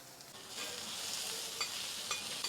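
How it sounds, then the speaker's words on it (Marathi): Onion sautéing in a pan for tomato chutney, a steady close sizzle with light stirring scrapes and a few brief clicks, no talk. "कांदा आता परतून घेते"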